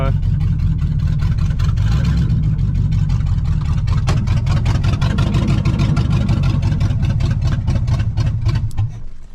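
A 1969 Pontiac Bonneville 428 V8 station wagon, revived after 45 years parked, runs loudly at high idle with a steady, rough low rumble close up, while a person talks over it.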